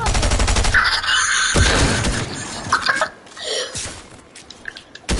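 Rapid bursts of gunfire in a shooter video game crackle loudly and close, a dense fusillade at first that breaks into scattered shots with brief pauses between.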